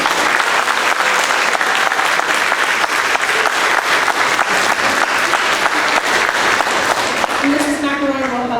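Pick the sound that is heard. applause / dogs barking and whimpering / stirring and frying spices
applause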